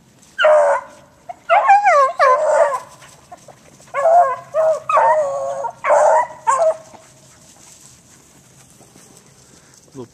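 A young hunting puppy barks and yips in a run of short, high bursts, close and loud with brief pauses between volleys, then falls silent near the end.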